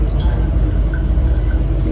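Spinach fresh from village fields being rinsed in a basin of water, with a steady soft sloshing, dripping and trickling of liquid close by, no voices.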